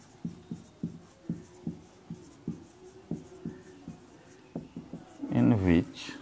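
Chalk or marker tapping and scraping on a board during a surface chemistry lecture, a steady series of short, sharp strokes near the microphone, ending with a brief louder rub.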